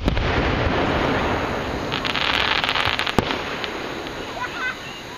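Fourth of July fireworks burst over Stroudsburg, Pennsylvania in a dense, continuous rumble with crackling volleys and a sharp pop, some distance away, before fading.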